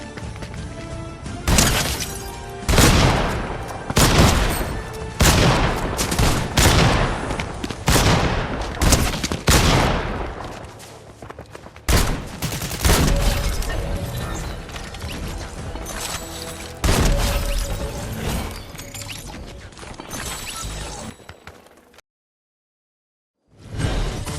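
Gunfire from the video game Fortnite, with repeated loud blasts and rapid bursts of shots, crashes and whooshes packed closely together in a continuous barrage before a brief drop to silence near the end.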